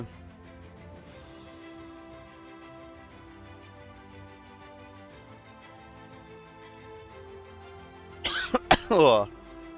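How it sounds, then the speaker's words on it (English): Several sharp coughs, loud and close, burst out near the end over quiet background music during an esports awards stream. "The coughs are coming in at the worst time possible."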